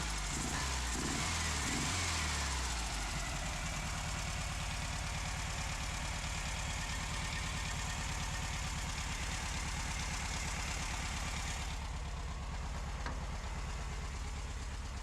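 A 1968 Volkswagen Beetle with carburetor problems idles steadily and loudly at close range, a low continuous rumble with a little unsteady pulsing near the start and no talk over it.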